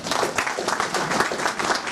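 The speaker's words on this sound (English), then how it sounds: "can we give him a round of applause?" A crowd at a county event gives a round of applause for Will Campos, steady broadband clapping from many hands, fairly close and sustained, with no voices over it.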